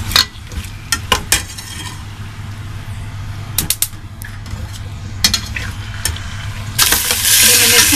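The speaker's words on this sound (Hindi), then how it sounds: "थोड़ा सा यही से फ्राई करना है गोश्त को" Beef for a Lahori-style yakhni pulao fries in a pot while a spoon stirs and clanks against the metal, sharp scraping knocks over a low background sizzle, ending in a louder burst of hiss.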